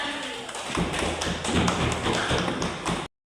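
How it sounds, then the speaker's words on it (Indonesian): Hands clapping together in a classroom, a group of students applauding a classmate after her presentation, a steady dense patter of claps lasting about three seconds at moderate loudness. "Oke, tepuk tangan untuk Nesa."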